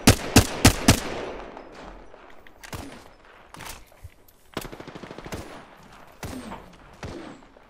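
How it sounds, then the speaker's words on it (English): Gunfire from an Apex Legends match: several sharp, loud shots open the sequence, followed by scattered bursts and single reports at varying distances, with a rapid automatic volley in the middle. "Getting shot at."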